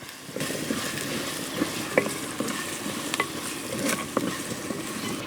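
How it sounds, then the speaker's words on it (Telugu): Ginger garlic paste fries in a pan for a village-style chicken curry, giving a steady close sizzle punctuated by the scrape and tap of a spoon stirring it every second or so. "ఎల్ల వెల్లిపాయ పేస్ట్ పచ్చివాసన పోయే వరకు కలుపుకోవాలి"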